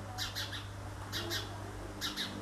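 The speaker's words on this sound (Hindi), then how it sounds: "चिड़िया की आवाज़ सुन लीजिए कितनी प्यारी प्यारी सी आवाज़ है" A small bird gives quick chirps in short clusters of two or three, repeating about once a second over a low steady hum.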